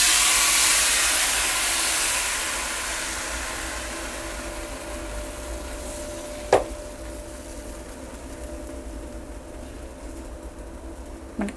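Bánh xèo batter frying in a pan over a low flame gives a broad hiss that starts loud and fades to a steady soft sizzle, with a sharp clink near the middle and another at the end.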